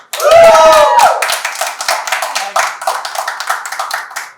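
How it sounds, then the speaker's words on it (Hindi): Hands clap in a quick, uneven run on a celebrity talk show set, opening with a brief tonal swoop and then continuing as steady, moderately loud claps alongside voices. "इस बात को इधर ताली भाई"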